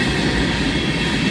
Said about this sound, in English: So that train's on track 1.